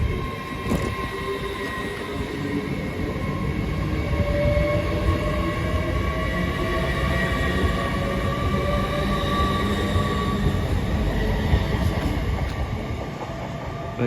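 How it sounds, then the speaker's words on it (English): Steady rumbling noise of a Great Western Railway passenger train departing Didcot Parkway station, with a low mechanical drone and faint clatter, continuous and fairly loud throughout, no voices. "Great Western Railway service to London Paddington from Hereford."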